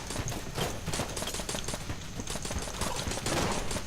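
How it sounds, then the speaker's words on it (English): Rapid bursts of nail gun fire in the video game Enter the Gungeon, quick repeated sharp shots in a dense, fast rhythm over game sounds. "I have to kill it with the nail gun."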